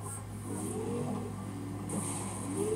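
A Lexus LFA engine in Need for Speed: Most Wanted revs and climbs in pitch, a smooth rising whine repeated twice, fairly quiet and steady.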